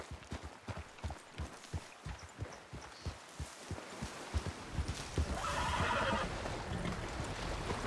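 Horse hooves clip-clopping in a steady walking rhythm, then louder splashing as horses enter a river in the RedM western video game, faint and without talk.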